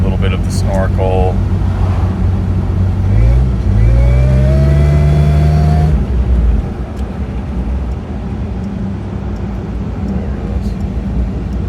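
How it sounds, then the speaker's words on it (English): Nissan Xterra with a Magnaflow exhaust and snorkel cruising, a steady engine drone with a rising rev swell in the first half, then settling into a constant lower road hum. "You kind of can hear the sound of the Magnaflow"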